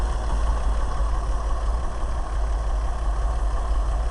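A 1965 International R185 truck engine idles steadily with a deep, continuous low rumble, loud and close, with no voices.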